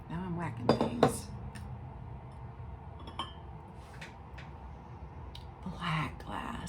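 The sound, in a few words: glass antiques clinking as they are knocked together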